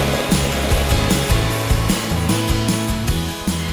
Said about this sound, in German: Nee, wir machen das mit so einem Handrührgerät.